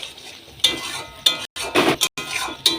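Spice paste for a paneer dish is stirred and fried in a pan, with several loud, close scraping strokes over a soft sizzle and brief silent gaps between strokes.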